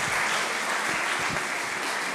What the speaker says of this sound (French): On vous applaudit bien fort, madame.